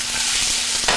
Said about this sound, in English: Yeah, you want that sizzle